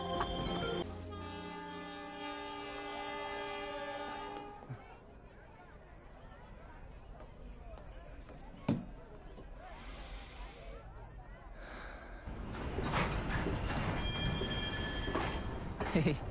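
A train horn blares in a long sustained blast at the start, followed by the rumble and clatter of a passing train that fades, then swells again near the end, with voices talking over parts of it.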